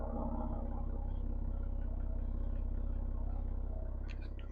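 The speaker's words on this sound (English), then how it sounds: "Exhaust is a little bit quiet," Brand-new pickup truck exhaust idling quietly, a steady low rumble with a faint mechanical drone that holds evenly throughout, heard close with no talking.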